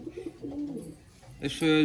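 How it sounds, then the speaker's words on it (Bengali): Low, soft cooing from a Chotiyal Madrasi pigeon nearby, followed by a sudden louder burst of noise at the end. "খুব সুন্দর কোয়ালিটির পায়রা"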